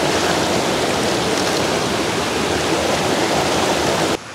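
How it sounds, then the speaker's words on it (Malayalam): A forest waterfall at Gavi roars in a loud, dense, unbroken rush of falling water heard up close, ending abruptly. "ഇതുപോലൊരു വെള്ളച്ചാട്ടം നമുക്ക് വേറെ എവിടെയാലും ഇത്ര പ്രൈവറ്റ് ആയിട്ട് കിട്ടുമോ?"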